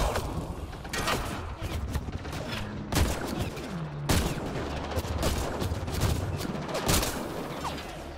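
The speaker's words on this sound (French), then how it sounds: "Ah, je me fais canarder." Enemy gunfire in Mass Effect Andromeda: dense, sustained bursts of shots and automatic fire rattle throughout, with sharp cracks and mechanical clatter, a faint voice underneath.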